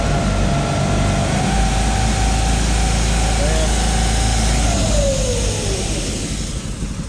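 The motor of a Patriot 220 seed tender runs with a steady, close whine and hum that holds level, then its pitch slides lower near the end, with someone speaking over it.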